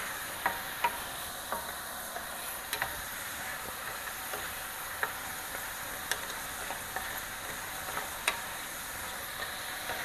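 Onion cookies (kue bawang) frying in hot oil in a home kitchen, a steady close sizzle with scattered pops and crackles throughout, no voices.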